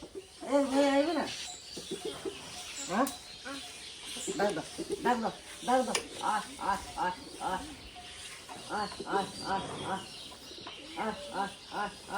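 Pigeons coo in repeated soft, throaty bursts, close by, with a few louder calls and light background noise between them.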